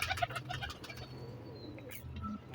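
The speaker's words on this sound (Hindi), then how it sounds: "ये ओरिजिनल तांबे वाले कबूतर हैं जी" Tambe wale pigeons, an original copper-coloured breed from Tonk city, coo in a low, steady murmur that runs throughout, with a few brief higher sounds on top and no voices.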